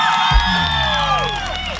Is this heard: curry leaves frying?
no